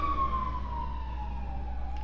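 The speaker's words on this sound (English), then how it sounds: "we can hear the sirens in the background" Emergency vehicle siren wailing outside a small studio in Keyport, heading to a fire, a steady descending tone under a low rumble of traffic, fairly distant but continuous throughout.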